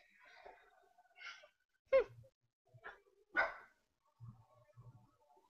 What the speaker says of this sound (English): Bitchy little dog.